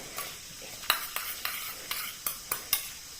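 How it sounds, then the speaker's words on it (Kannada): Black sesame seeds dropped into hot ghee with the stove switched off, sizzling softly while a spoon stirs and taps against the pan in a few sharp clicks, close by with no talk. "ಇದರಲ್ಲಿ ಅದು ಫ್ರೈ ಆಗ್ತದೆ, ಈ ಬಿಸಿ ತುಪ್ಪದಲ್ಲಿ ಫ್ರೈ ಆಗ್ತದೆ."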